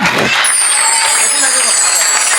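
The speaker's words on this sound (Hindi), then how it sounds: "उनके लिए एक बार जोरदार तालियां" Loud, continuous applause from a large audience at a Jain religious worship program in Dadar, a dense wash of clapping filling the whole stretch alongside a faint voice and crowd murmur.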